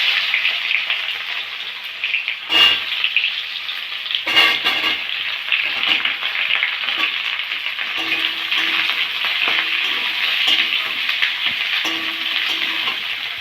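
Star fruit pieces hit hot oil tempered with dried red chilli and panch phoron for a Bengali pickle, a loud, dense sizzle with a couple of bursts of spatter when ingredients go in, then steady frying.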